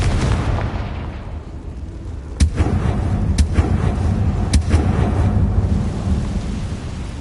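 In Hogwarts Legacy, a Confringo fire spell detonates with booming, rumbling blasts, three sharp explosive cracks over a dense roaring background, loud and close.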